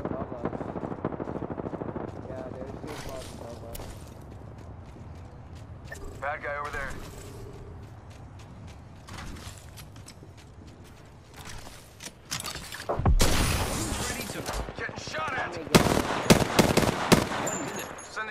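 Gunfire in the Apex Legends battle royale game, season 7, with repeated bursts of shots crackling over busy game sounds and voice callouts, loudest near the end.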